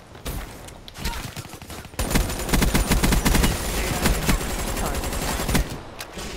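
Sustained automatic gunfire from the game Black Ops 3 rattles in dense, loud bursts, building after a shorter opening volley and continuing nearly to the end with little talk.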